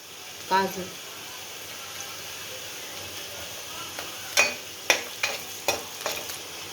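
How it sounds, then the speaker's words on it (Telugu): Onions fry with cashews in a pan, giving a quiet background sizzle broken by an early scrape and then several sharp stirring clatters of a spoon against the pan. "ఆనియన్ కొంచెం వేగిందండి. కాజు,"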